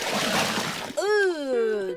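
Water splashes in a short, noisy burst over the first second, after which a voice speaks and laughs close by; heard during a children's speech-therapy exercise with a dog playground theme.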